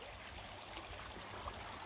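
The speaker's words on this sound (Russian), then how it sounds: "А тут вот речка." A small forest river in early June, swollen after rains, gives a faint, steady rushing and trickling murmur throughout, with no voices over it.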